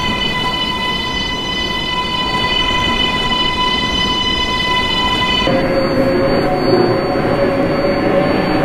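R188 7 subway train departing toward Queensboro Plaza, its electric motors giving a steady multi-toned whine that drops sharply to a lower pitch partway through, over constant rumbling wheel and track noise, close and loud.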